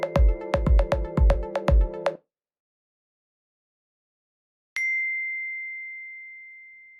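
A single bright text message notification ding rings out clear and sustained, slowly fading, following a short burst of rhythmic percussive chords and a stretch of silence.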